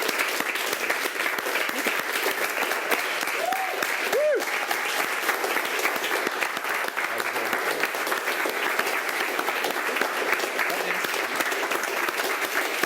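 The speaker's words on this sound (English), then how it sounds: "So with a huge round of applause," A crowd applauds to welcome a speaker at a casual get-together, with dense, steady clapping that stays even and continuous throughout, fairly close and full, with a few brief voice-like tones rising once near the start.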